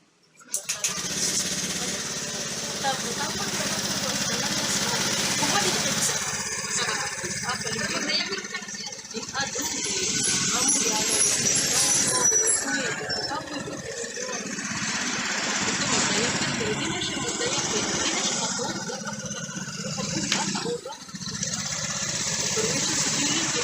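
A Honda Beat FI motorcycle with an error code 52 fault has its small engine started and run unevenly at close range, the revving buzz fading and sputtering as it stalls, with a voice speaking throughout.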